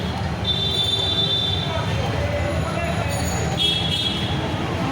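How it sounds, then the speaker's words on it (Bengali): A train runs past on the rail line below an overbridge on the way to Malda, giving a steady, loud rumble with high wheel squeals that come and go, while people talk nearby. "গাইস দেখো, ট্রেন যাচ্ছে"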